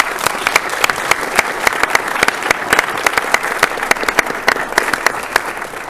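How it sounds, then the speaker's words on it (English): A room at a county board of commissioners meeting applauds a group of students, with crisp, fairly loud clapping from a modest crowd that stays steady and even throughout. "Let's give these students a round of applause."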